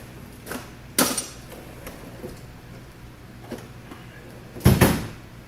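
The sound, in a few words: pneumatics drawer being shut in a garage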